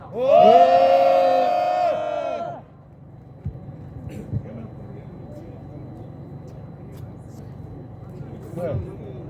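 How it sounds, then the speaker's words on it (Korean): A crowd of protesters at an outdoor press conference lets out a loud, forceful collective shout and cheer for about two seconds, then it cuts off into quiet background with faint murmurs and a brief voice near the end. "격한 함성을 힘차게 외쳐주시기 바랍니다"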